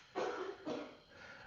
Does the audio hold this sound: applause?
no